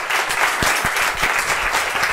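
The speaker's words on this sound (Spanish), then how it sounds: "un aplauso para Mardía y para todos" Audience applause for guests at a Spanish-language talk event, a dense wash of clapping with a few sharper low thumps, continuous and moderately loud.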